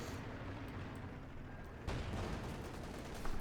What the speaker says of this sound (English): Panther moving about here, firing its machine guns and its main gun there